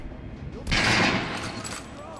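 A shotgun fires once in the video game Metro: Last Light Redux, a sharp close blast with a short rumbling tail, over faint background ambience.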